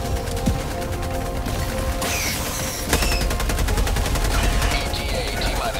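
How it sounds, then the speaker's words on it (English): A sentry turret in Helldivers 2 fires a rapid, continuous stream of shots, loud and unbroken over battle noise with occasional heavier impacts and voices underneath. "Calling down a sentry."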